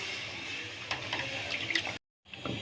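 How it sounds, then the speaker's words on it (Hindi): Water poured from two glasses into a cooking pot of spiced chicken feet, a steady close splashing pour for about two seconds, then a brief gap and a shorter splash, with no talking. "दो गिलास हम इसमें पानी डाल देंगे।"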